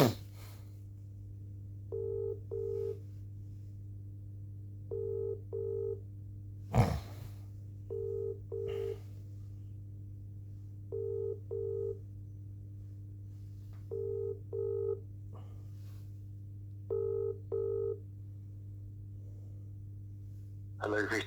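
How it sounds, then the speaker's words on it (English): A telephone line rings out on a call, with paired ring bursts repeating about every three seconds over a constant low hum and a sharp click partway through. "Ringing up Jonathan Smith."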